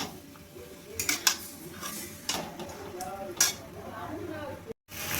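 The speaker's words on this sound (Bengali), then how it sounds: "আমি একটু ভালোভাবে নাড়িয়ে চাড়িয়ে নেব" A pan of bottle gourd curry with fish head being stirred, a spoon scraping and clinking against the metal at irregular moments over a low simmering background, with a brief gap near the end.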